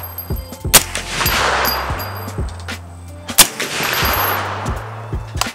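Two loud, close rifle shots from a Q Fix 6.5 Creedmoor at an outdoor range, each with a sharp crack and a long rumbling decay, plus fainter shots from other shooters.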